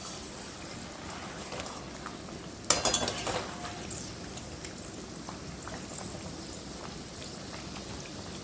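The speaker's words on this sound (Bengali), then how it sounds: "এবার আলুগুলোকে দিয়ে দিলাম, দিয়ে হালকা হাতে আমি নেড়ে নেব। একদম আঁচটা লোতে থাকবে, তাহলে ভাজাটা খুব সুন্দর হবে।" Potato slices for homemade chips fry in oil over low heat with a soft, steady crackling sizzle, broken once by a brief metallic clatter of a utensil stirring the pan.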